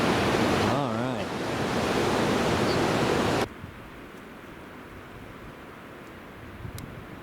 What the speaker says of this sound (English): Same waterfall again.